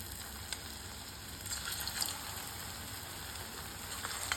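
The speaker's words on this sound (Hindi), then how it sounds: "कढ़ाई में पहले ही मैंने तेल को मीडियम गर्म कर लिया है। तो अब हम नाश्ते को डालेंगे।" Gram flour and onion snacks dropped into medium-hot oil in a kadhai, giving a steady bubbling sizzle with a few brighter crackling bursts as pieces go in, close and continuous with no talk.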